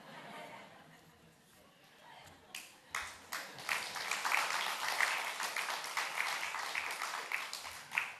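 Applause breaks out at a church revival service in Korea, building from scattered claps into a fuller, uneven round of clapping from the congregation, with some chuckling mixed in.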